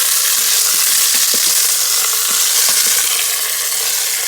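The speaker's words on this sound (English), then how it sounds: "just let it saute and brown on the various sides" Pork sautéing and browning in an Instant Pot, a loud constant hiss of searing fat with scattered small crackles and pops.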